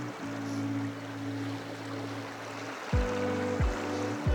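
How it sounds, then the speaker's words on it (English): A spring flows across a very wet field on open moorland as a steady, close rushing wash, with a low droning hum layered over it that dips in pitch a few times near the end. "you can hear from that there's good flowing water there"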